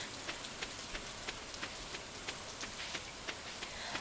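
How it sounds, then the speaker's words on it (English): Steady rain patters outside and blends with rain from the farming game Stardew Valley, a soft, constant wash broken by faint, regular drips, quiet and with no voices. "it's throwing me off a little bit to hear the rain outside and in the game"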